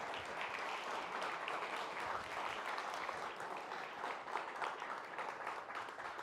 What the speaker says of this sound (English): Guys, another round of applause for Levi.